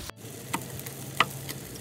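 Mushrooms dropped into a pot of browned beef on a Pit Boss ceramic grill, a soft sizzle with a few sharp clicks and taps as pieces land, close and fairly quiet.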